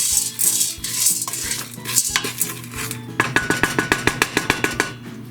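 Popcorn kernels and cotton candy sugar stirred in a pot with a utensil, giving a clattering, scraping rattle that turns into a steady run of sharp, evenly spaced knocks against the pot.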